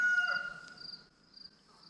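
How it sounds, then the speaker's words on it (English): A neighbor's chickens crow in the background, a tonal drawn-out call with clucking, moderately distant in a backyard with no talking. "neighbor's chickens"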